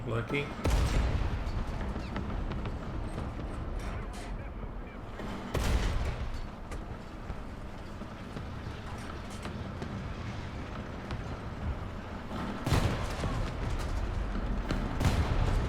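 Soviet T-35 heavy tank cannons fire in War Thunder, with booming shots near the start, the middle and the end over a steady rumble of engine and battle noise. Someone talks throughout.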